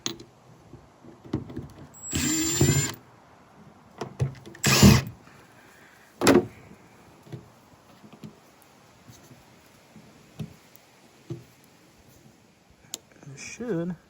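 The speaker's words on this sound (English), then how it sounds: "So we're just gonna take a number 2, unscrew all 5 of these." Screws being backed out with a number 2 screwdriver on a diesel Kei truck, scattered clicks and scrapes with a few louder bursts of metal rattling, close by, while someone talks.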